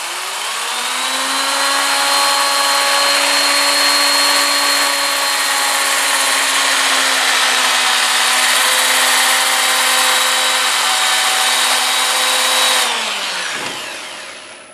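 A power sander works a wooden bowl with 80 grit sandpaper, a loud steady whirring hum with a faint pitch drift that runs for about thirteen seconds before spinning down and stopping.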